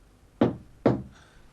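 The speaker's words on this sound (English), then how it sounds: "Give 1 knock for yes, 2 knocks for no." Two sharp knocks sound on wood at a séance, evenly spaced about half a second apart, close and distinct in an otherwise quiet room.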